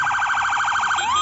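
An ambulance siren wails in a fast, even warble that repeats many times, loud and near, then sweeps upward into a new tone near the end, with no talk over it.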